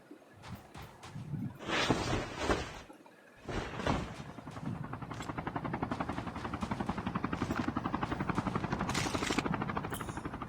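A helicopter's rotor in Call of Duty Mobile thumps rapidly and steadily, building after a few bursts of noisy action sounds, in a game-like scene.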